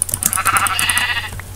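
Minecraft sheep bleat several times in quick succession, a close, clear run of wavering game bleats over a faint steady background hum.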